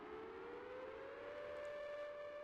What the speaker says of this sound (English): The sirens are still going a little.